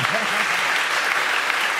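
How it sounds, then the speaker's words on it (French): Studio audience applause for Janet Jackson on a French TV entertainment show, a dense steady wash of clapping with some voices mixed in, brief and continuous. "On peut l'applaudir, s'il vous plaît."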